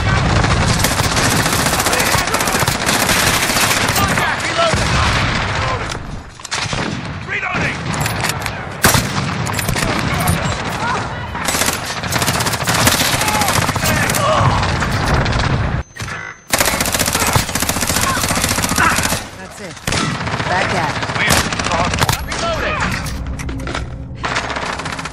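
Call of Duty Warzone gunfire keeps up almost without a break: dense, loud automatic bursts and booming explosions crowd together in a chaotic firefight, broken only by a few short gaps.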